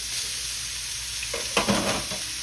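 Meat just flipped on a hot restaurant grill sizzling steadily, with a few louder crackles and scraping sounds midway, no talking.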